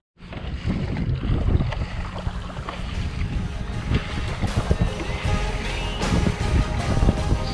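A motorboat passes out on open water against the tide, its engine a steady, continuous drone beneath heavy wind buffeting and the rush of water, with no talking.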